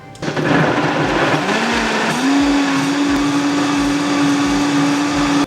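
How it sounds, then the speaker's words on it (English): A countertop blender runs on a pumpkin smoothie with banana, pineapple and ginger, a loud steady motor whir with a rising pitch and rhythmic churning thumps throughout. "So now we're going to turn on the blender and blend."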